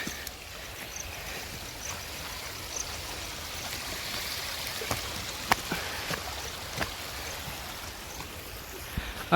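A mountain stream flows at Girnar in a continuous, moderately loud wash of rushing water, with a few faint ticks and knocks scattered through it.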